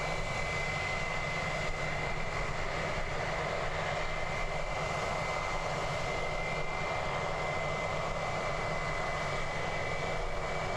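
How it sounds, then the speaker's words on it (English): Aircraft at Christchurch Airport near the runway end on a windy day, a continuous engine drone with a steady high whine, moderately distant and unchanging, with no talk. "we can actually hear the planes now"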